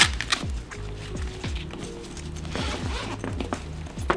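A zipper on a studio light carry bag for a Sokani X60 COB LED light opens in several quick rasping pulls, close up, with no speech.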